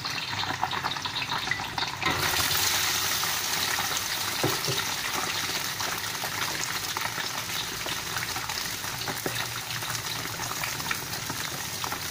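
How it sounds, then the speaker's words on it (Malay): Steady sizzling of tofu frying in hot oil, continuous and close, with faint bubbling and no talking. "Okey, kita goreng tahu."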